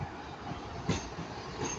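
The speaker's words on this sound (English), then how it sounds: "now it's going to be a East Midlands train to Norwich, the 1343 service," An East Midlands Class 158 diesel passenger train rolls into Manchester Piccadilly station, a steady low rumble with faint wheel clicks and brief metallic squeals, heard from the platform at moderate distance.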